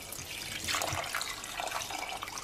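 Water pours steadily into a cooking pot over stock for a low-carb one-pot keto dinner, a continuous close splashing and gurgling with no talking.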